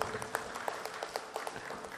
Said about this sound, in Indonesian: tepuk tangan buat Pak Asisten aja